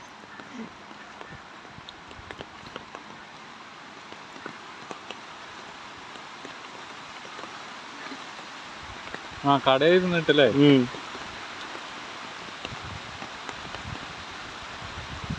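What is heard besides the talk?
rain falling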